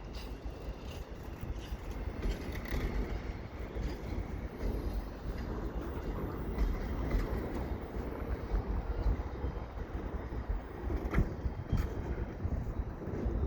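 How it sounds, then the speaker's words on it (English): A CP double-stack freight train passes at night at O'Connell Avenue, a continuous heavy rumble and rattle of rolling cars that holds steady throughout, with some wind buffeting the microphone. "I'm going to film this train."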